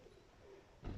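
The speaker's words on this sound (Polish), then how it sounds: "te gołębie wróciły" A soft, low pigeon coo sounds briefly nearby, followed by a short louder rustle or flutter at the end.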